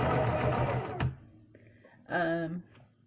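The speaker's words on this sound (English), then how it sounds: "I can sew using my left foot, which is what I'm doing today." A sewing machine runs in a close, whirring burst at the start, then a quieter pause, followed by a second short run with a rising mechanical whine.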